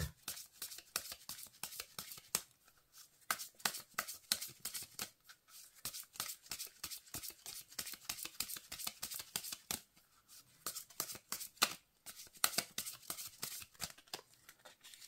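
Oracle cards being shuffled by hand, a quick run of crisp papery riffles and flicks, close and steady for the whole stretch with only brief pauses and no talk.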